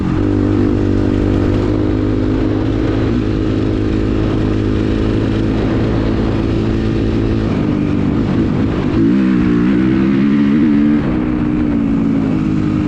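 A dirt bike engine with a Rekluse automatic clutch and red springs runs continuously up close, the drone shifting pitch as the rider rolls on and off and the clutch disengages, with some mechanical clatter.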